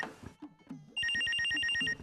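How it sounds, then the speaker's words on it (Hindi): A phone rings with a single electronic trilling burst lasting about a second, loud and close, following some quiet background sounds in a domestic drama scene. "किसका फोन आ गया"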